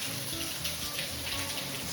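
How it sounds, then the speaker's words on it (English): Water cascading through a cave ceiling and dripping down to the cave floor, a steady close splashing patter and trickle with no voices. "Quite the cascade of water coming down through the ceiling here and dripping all the way down to the base of the cave."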